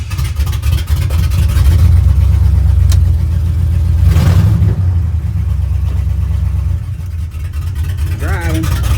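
Chevrolet C10 truck engine at its first start-up, idling and revving with a loud, rumbling low-pitched drone close by, one stronger rev midway, then settling to a steadier idle.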